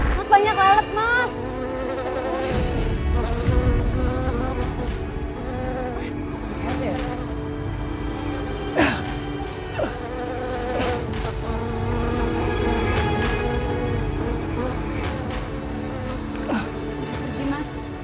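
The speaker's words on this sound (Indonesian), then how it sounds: "banyak lalat" Flies buzz around steadily through the scene, a thin whining drone that persists under Indonesian dialogue and other background sounds, rising and dipping slightly as they move.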